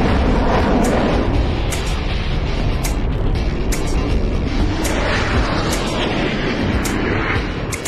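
A Eurofighter Typhoon jet flies with a loud, sustained broadband roar that holds steady and fades slightly at the end.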